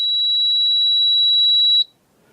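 A NAVAC NRC62i smart refrigerant charging machine emits one steady, loud high-pitched electronic beep while pairing with its scale, holding for nearly two seconds before cutting off into quiet.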